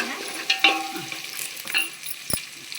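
Curry leaves dropped into frying onions for Andhra biryani, a steady close sizzle with brief spits and pops and a light clink of a stirring spoon.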